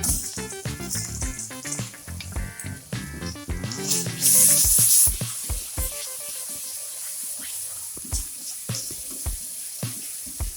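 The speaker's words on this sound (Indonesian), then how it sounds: "setelah bawang bombaynya layu dan harum baunya, kita masukkan bumbu yang telah dihaluskan" Ground spice paste for beef rendang hits softened onions in a pan, bursting into a loud sizzling hiss midway, amid clinks and scrapes of utensils and background music.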